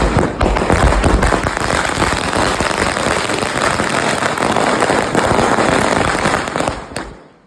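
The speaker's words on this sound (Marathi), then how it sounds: "मंदिराजवळ थोड्या फटाके" A loud, dense, continuous crackle of firecrackers bursting near a temple in rapid succession for several seconds, then cutting off abruptly.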